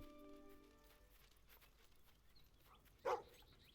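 A single short dog bark sounds at moderate distance in the video game Fable II, rising over faint ambient game music and background noise near the end.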